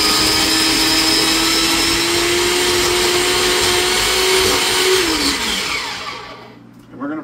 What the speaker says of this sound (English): we're going to put this into food processor.